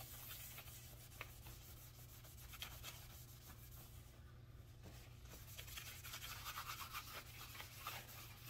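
Steady rubbing of a cloth wiping excess Danish oil off a wooden guitar body, a continuous close scrubbing texture with rhythmic strokes over a constant low background hum.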